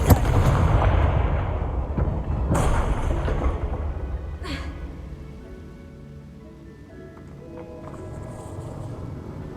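Loud, booming blasts of the Confringo fire spell in the Hogwarts Legacy video game, three sharp explosive bursts spaced a couple of seconds apart over a rumbling, crackling wash that slowly fades.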